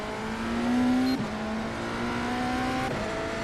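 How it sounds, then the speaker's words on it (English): A race car engine from a NASCAR racing video game, set at the USA International event, drones steadily with a rising whine that drops sharply as the car shifts gear, then holds a steady high tone; loud and close, with no talk. "I did turn down the engine noise."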